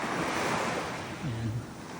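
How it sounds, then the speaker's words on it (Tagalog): Ocean waves wash steadily onto a Canadian beach, a dense, continuous surf roar mixed with wind buffeting the microphone, with a brief tonal cry rising over it near the end. "Sarap-sarap pakinggan yung tunog ng alon."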